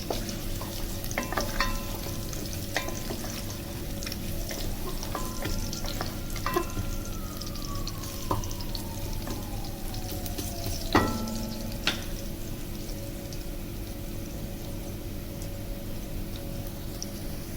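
Garlic fries in a pan and is stirred, a soft steady sizzle under scattered scraping ticks and clinks from the spoon, fairly quiet and close with no talk.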